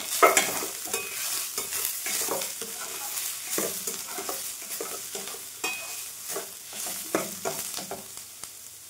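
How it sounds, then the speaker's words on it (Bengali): Chopped soya chunks being stirred into fried onion and green chilli in a hot pan, with steady scraping strokes over a continuous sizzle, close and alone without voices. "কুচনো সয়াবিনগুলো ভেজে রাখা পেঁয়াজ ও কাঁচা লঙ্কার সঙ্গে মিশিয়ে নেব।"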